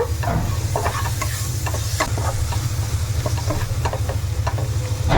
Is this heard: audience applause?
no